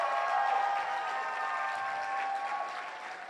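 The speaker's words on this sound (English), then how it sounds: "Round of applause if this is the talk you want" An audience at an Ignite Seattle talk night applauds steadily, a dense sustained round of clapping that fades slightly toward the end.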